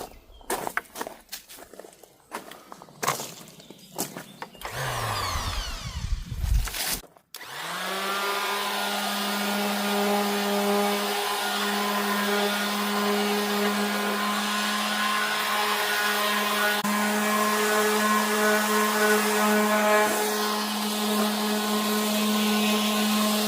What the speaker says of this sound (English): Okay, let's get sanding